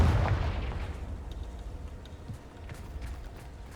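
Spell explosions in the Hogwarts Legacy video game open with a booming blast that rumbles away, followed by scattered crackles and pops fading over a few seconds.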